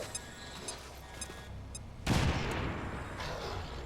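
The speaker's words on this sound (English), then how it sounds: "Claire O'Sullivan, you can grenade this guy" A grenade detonates in the video game XCOM 2, a sudden loud blast about halfway through followed by a rumbling, crackling decay, with faint electronic game tones before it.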